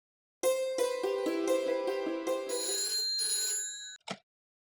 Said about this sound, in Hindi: फोन लगा दो।